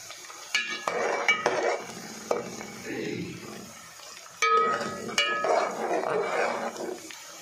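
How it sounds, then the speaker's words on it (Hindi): Crushed garlic added to softened onions in a pan, with a sizzle and fry punctuated by metallic scraping and clanks of a spoon stirring, close and moderately loud; a voice speaks intermittently. "यहाँ पे प्याज सॉफ्ट हो गए हैं तो मैं इसके अंदर कुटा हुआ लहसुन ऐड कर रही हूँ।"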